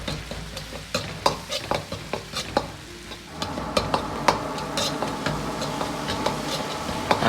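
Mapo tofu sauce with fermented black beans and soy sauce stir-frying in a wok, a steady sizzle broken by frequent sharp clicks and scrapes of the spatula, close and continuous.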